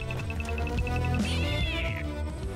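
A single drawn-out kitten meow, rising and then falling, plays over continuous background music in the second half, with no talking.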